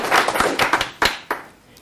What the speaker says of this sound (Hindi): सबसे पहले मेरा ख्याल है उनके लिए तालियां बजा देनी चाहिए